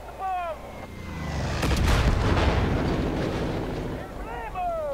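A bomb blast in the video game Far Cry 5 swells into a long, rumbling roar lasting a few seconds, with a voice briefly heard before and after it.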